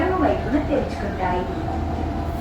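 A Hyderabad metro train runs with a steady broadband rumble and rolling rail noise throughout, continuous and fairly close, with a faint voice beneath.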